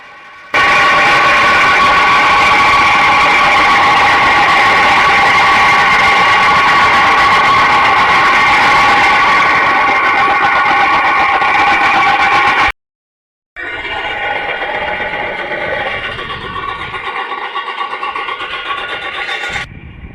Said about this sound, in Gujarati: હા તો પથ્થર આવી રીતના કંઈક મશીન દ્વારા કપાઈને બહારની તરફ આવે